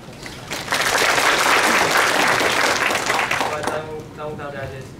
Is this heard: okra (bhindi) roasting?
no